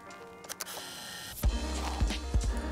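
A cheap film camera's shutter fires with a quick mechanical click, followed by a few soft handling thumps and rattles close by, with no one speaking.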